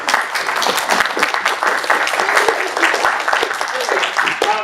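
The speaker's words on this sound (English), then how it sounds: "I'm not too proud to beg for applause because we just finished a talk" Audience applauding at the close of a talk at a game developers conference, a steady patter of many hands clapping with a few sharper claps standing out, continuing unbroken for several seconds.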